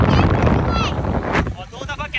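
Strong wind buffets the microphone while riding a motorbike, a loud roaring rumble that dips briefly, with a voice talking through it.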